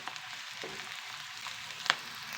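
Onion frying golden in a pan for poha, a soft steady sizzle close by with a few faint stirring scrapes and one sharp clink near the end.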